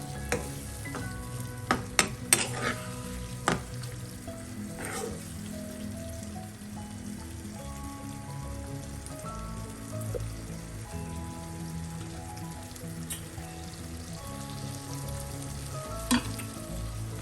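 Brinjal masala curry is stirred in a pan after hot water is added, a soft continuous bubbling simmer with clinks and scrapes of a spoon, loudest early on.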